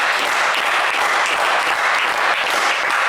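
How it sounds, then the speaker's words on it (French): A French game-show studio audience applauds in a dense, steady burst of clapping, loud and close, with no voices over it. "Allez, on va vous applaudir quand même."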